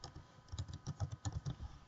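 Quick typing on a computer keyboard, a short burst of about a dozen light, close key clicks in an uneven rhythm, with no one speaking.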